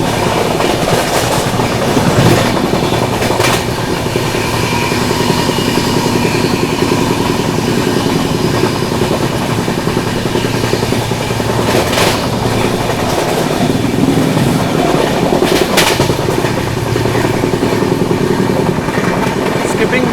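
The 15658 Brahmaputra Mail runs at speed through Meja Road station, heard from on board as a loud continuous rumble with rhythmic clickety-clack of wheels over rail joints and sharp clanks as it crosses points.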